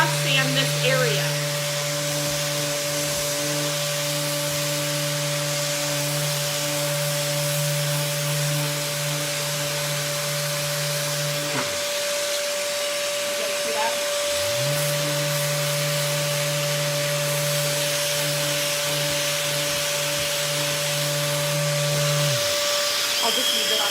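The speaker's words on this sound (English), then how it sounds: "So this sander with this pad, it's getting down in this, on the top of this" A power sander scuff-sands the top of a wooden yard sale table, giving a steady loud motor whine with a humming drone that stops briefly in the middle and then starts again.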